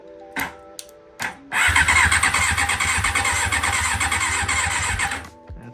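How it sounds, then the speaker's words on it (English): A 1990 Honda CBR600F1 motorcycle engine is cranked by its starter after a few brief clicks. It then whirs loudly and steadily for about four seconds with a rapid, even pulsing, and stops abruptly. "So I'm gonna contact those two together and see if the motor turns over."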